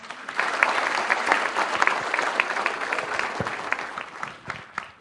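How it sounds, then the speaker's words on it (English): Audience at an entrepreneurs' event gives a sustained round of applause, dense clapping from a crowd in a room that holds steady for several seconds before thinning out toward the end. "I think we can applause a little longer"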